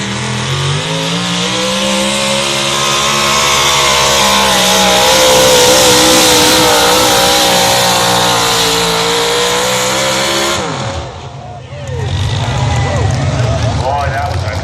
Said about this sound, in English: nice supercharged big block Chevy